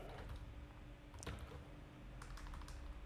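Computer keyboard typing during a JavaScript coding session for Salesforce, with scattered key clicks and a short burst of faster keystrokes, fairly quiet over a steady room hum and no talking.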